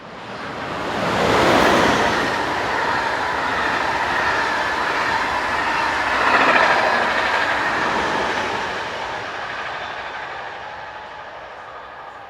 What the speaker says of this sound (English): Heading north are locomotives 1866 and 1838, top and tailing the 1608 from Liège to Quievron.